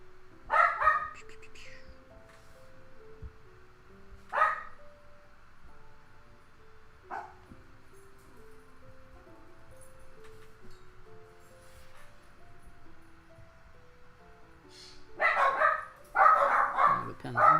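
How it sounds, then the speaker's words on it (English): Several excited pet dogs bark in sharp bursts, a few single yaps spaced through the middle and a cluster of rapid barks near the end, over a quiet room with low electronic tones. "doggos are excited. The three-headed dog beast is early today."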